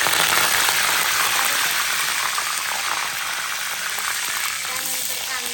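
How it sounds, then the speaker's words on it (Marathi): Mustard seeds sputter in hot oil for a sambar, a dense, loud, crackling hiss that stays steady throughout and fades slightly toward the end, with no voices. "तेल तापलेलं आहे. आता तेलात मी टाकणार आहे मोहरी."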